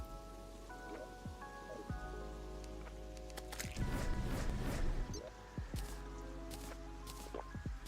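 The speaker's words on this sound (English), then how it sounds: "I feel like the torrential downpour is about to stop." Torrential rain in the Terraria Calamity mod: a steady rain wash runs throughout, with denser splashing bursts in the middle and scattered game tones and clicks layered over it.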